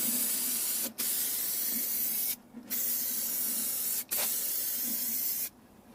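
Black spray paint hissing from an aerosol can onto rusty car window trim from a Honda Civic, four long close bursts separated by brief pauses, loud and steady with no talking.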